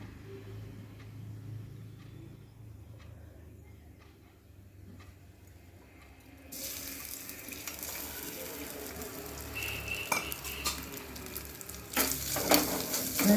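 Grated coconut roasts in ghee in a pan for protein balls, starting as a quiet low hum and then building into a rising crackling sizzle with stirring scrapes that grows louder toward the end.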